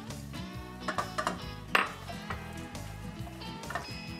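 Ground turkey cooks in a pan with a soft, steady sizzle, broken by scattered metallic clinks and scrapes of a utensil against the pan. Light background music plays throughout.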